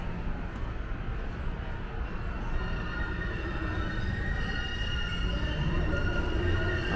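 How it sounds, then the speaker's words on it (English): A Boston subway B train arrives at Park Street station with a continuous low rumble and roar of wheels on rails, faint squealing tones drifting above, steady and moderately loud with no talking. "The next B train to Boston College is now arriving."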